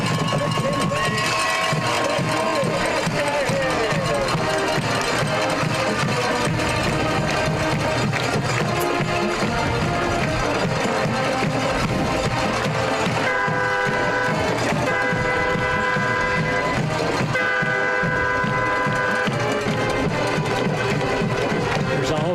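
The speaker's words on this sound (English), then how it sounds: "Train that just drove through." A train passes near a football field during a high school game, its rumble blending into the broadband stadium din, with a few sustained horn blasts toward the end and people talking throughout.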